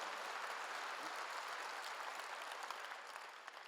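A congregation applauds steadily during a church service, a dense wash of many hands clapping at a moderate distance, fading slightly near the end.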